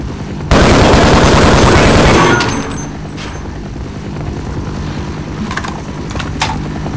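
Gunfire in Half-Life: Opposing Force, a loud, dense burst of shots lasting about two seconds, then fading into a quieter rumbling game ambience with a few faint later clicks.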